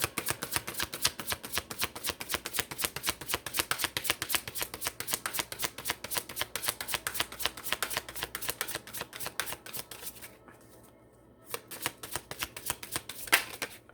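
A deck of tarot cards is shuffled in rapid, crisp riffling bursts that run almost continuously, close and fairly quiet, with a short pause near the end before one more shuffle.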